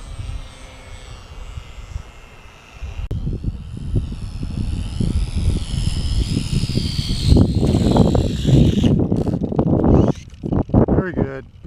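A Harbor Freight P-51 RC model plane flies overhead and comes in to land, its high buzzing engine whine rising and falling in pitch as it passes, heard under someone talking.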